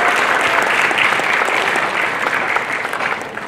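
A crowd applauds at the closing ceremony of Festival HAM 2023 in Singkawang, loud dense clapping that runs steadily and then thins slightly toward the end.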